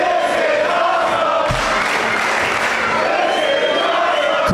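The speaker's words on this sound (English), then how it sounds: "As the crowd shows their appreciation." A wrestling crowd at a live match applauds and cheers in a loud, continuous roar, with a sharp thud partway through and a few voices shouting within the noise.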